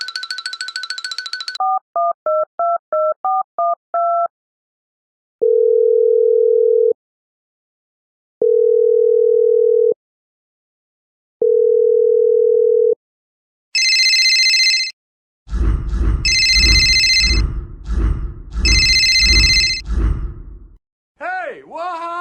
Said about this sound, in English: Your phone ringing. Big boy, come pick up your phone.